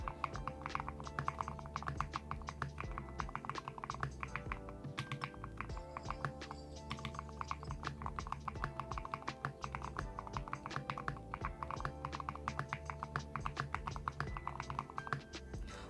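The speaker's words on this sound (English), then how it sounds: "it's time for me to type" Rapid, continuous typing on a computer keyboard, a dense stream of close, crisp key clicks and taps at a steady pace throughout, with no talking.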